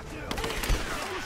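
Rifle gunfire in the video game Rise of the Tomb Raider, a brief burst of rapid shots at moderate level mixed with game sounds and a person talking over it.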